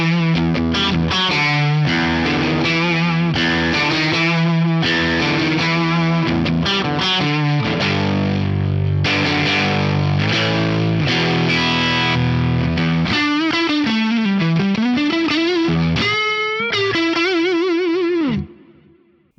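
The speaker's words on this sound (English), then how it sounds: "Let's hear the Echoplex preamp and then we will move on" Electric guitar played through an Echoplex preamp pedal on a drive pedalboard, loud and clean-sparkly with chords and single-note lines, a wavering bend near the end before it cuts off, no talking.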